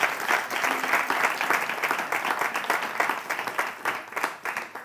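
A live audience at a French entertainment show gives a sustained burst of applause, dense clapping lasting the full five seconds and fading slightly toward the end.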